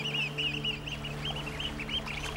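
Several birds, probably ducks, call outdoors in a steady run of short, fairly clear quacking or honking notes over a constant low background hum.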